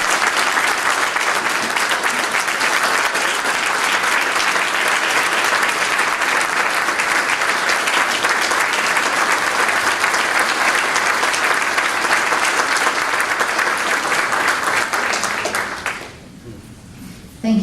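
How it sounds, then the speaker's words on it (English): A Tea Party meeting audience at Regent Hall in Northeast Tarrant gives a speaker steady, dense applause that holds loud for about sixteen seconds, then drops sharply to scattered claps and room noise. "Let's give this guy a round of applause."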